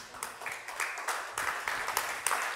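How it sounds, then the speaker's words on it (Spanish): A church congregation claps together during a service, a dense, steady patter of many hands that swells in several waves across the short stretch. "¿Cuántos aplauden al Señor?"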